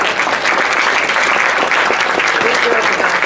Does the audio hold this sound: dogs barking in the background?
no